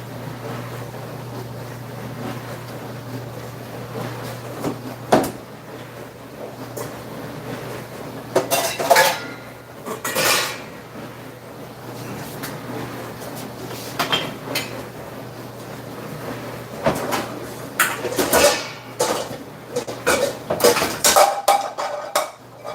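Pots and utensils clank intermittently in a kitchen while beef is blanched, sharp metallic knocks and scrapes scattered over a steady low background hum, growing busier toward the end.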